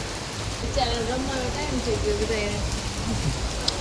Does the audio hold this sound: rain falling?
yes